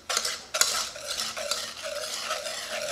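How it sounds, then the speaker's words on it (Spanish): Whipping cream being stirred into a brownie chocolate mousse mixture in a bowl, a steady scraping, swishing stir with a couple of sharp utensil knocks near the start, close and continuous. "Vamos a mezclar todo"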